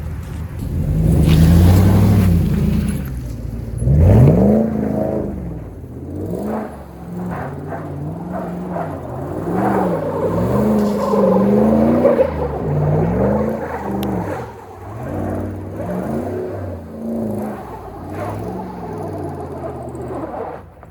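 Ram pickup truck doing a donut with stability control disabled, its engine rumbling and revving in rising and falling surges under wind and tire noise, continuous and fairly close.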